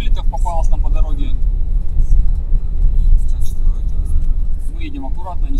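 A car cruises along a frosty, clear highway with three huskies riding inside, its low engine and road rumble droning steadily while someone talks over it throughout.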